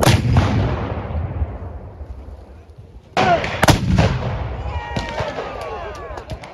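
A 12-pounder Civil War cannon fires round ball at an outdoor range: a loud, deep boom rolls away in a long decaying echo, then a second sharp blast cracks out midway and trails off.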